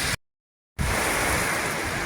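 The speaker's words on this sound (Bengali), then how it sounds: "দেখো বৃষ্টি পড়ছে" Heavy rain pouring during a storm, a steady broadband hiss that fills the clip after a brief dropout to silence near the start, with no voices.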